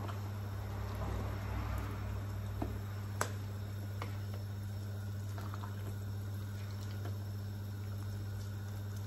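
Pork rib tom yum soup simmers in a pot, giving a soft bubbling and crackling texture over a steady low kitchen hum. Scattered faint clicks punctuate it, and no voices are present.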